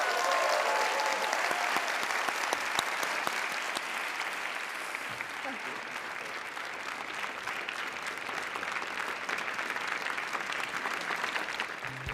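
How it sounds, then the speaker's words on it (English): A studio audience applauds Gary Oldman with a long, steady round of clapping that holds at an even level throughout, with no voices standing out. "please give one more round of applause for Gary Oldman"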